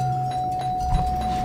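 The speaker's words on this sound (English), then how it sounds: "he's ringing the doorbell again" A doorbell rings with a sustained, steady electronic tone over faint background hum, with a few soft knocks underneath, and no voices.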